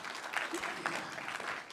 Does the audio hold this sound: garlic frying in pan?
no